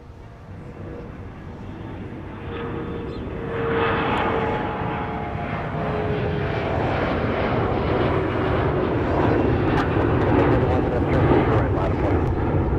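A CRJ regional jet departs Minneapolis–Saint Paul airport, its engine roar steady and broad at first, then swelling louder and holding at full power without letup.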